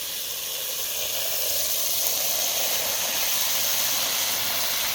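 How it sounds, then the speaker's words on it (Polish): Water runs steadily into a planting hole dug for tomatoes in garden soil mixed with horse manure, a soft continuous hissing pour that stays even throughout, close by, with no talking. "teraz to zalewam wodą"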